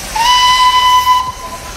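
A Darjeeling toy train arriving at Batasia Loop sounds its steam whistle: one loud, steady, shrill note held for over a second over hissing steam and rumbling background noise, with no talk.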